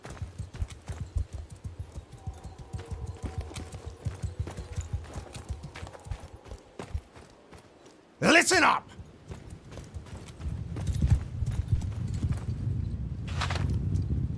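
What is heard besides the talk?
horses galloping in the video game Bannerlord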